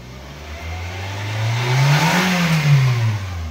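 Daihatsu Terios TX Adventure from 2008 with its engine revved once while parked, a smooth hum swelling to a short peak and falling back to idle, close by and alone.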